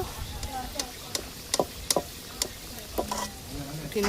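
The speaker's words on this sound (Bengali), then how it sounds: "আলুগুলো ভাজা হয়ে গেছে, এইভাবে লাল লাল করে ভেজে নিয়েছি। এইবার উঠিয়ে নেব," Reddish fried potato pieces are lifted out of hot oil, a low sizzle running beneath sharp metallic scrapes and clinks of a spoon against the pan, with a voice speaking over parts of it.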